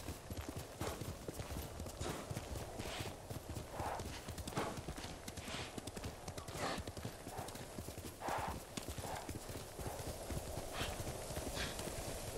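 A horse's hooves clip-clop in a steady rhythmic gallop in the video game Ghost of Tsushima, with occasional brief whinnies over a busy, continuous game soundscape.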